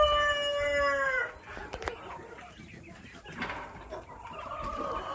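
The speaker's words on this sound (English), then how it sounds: "That one's a rooster right there with a weird-looking crow." Rooster with an odd crow at a farm that also keeps naked neck and mohawk-crested chickens and quail, one harmonic crow up front followed by scattered clucking and farmyard noise, fairly close and clear.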